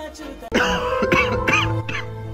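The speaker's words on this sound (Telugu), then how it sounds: "ఎక్కువ దగ్గు వస్తుంది" A run of rough coughs over continuous background music, several bursts in quick succession, fairly loud and close.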